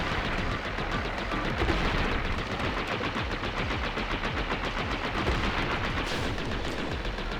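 Enemy gunfire in the video game Gato Roboto: dense, rapid machine-gun-like shots rattling continuously at steady loudness for the whole stretch, with no pauses.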